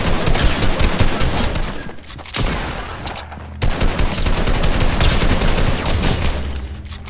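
Rapid automatic gunfire in a Fortnite match comes as dense, loud bursts of shots, broken by a short lull near the middle and then resuming, with no talking.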